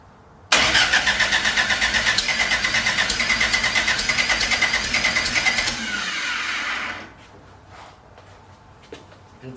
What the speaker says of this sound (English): Just hearing it crank is kind of cool.